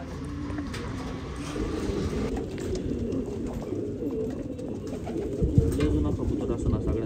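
Pigeons cooing in a loft in Dhankawadi, soft repeated low coos from several birds at close range, with faint background voices and noise.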